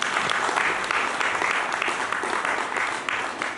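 A church congregation claps to acclaim the Lord during a sermon, producing dense, sustained applause from many hands that fills the room evenly and fades slightly toward the end.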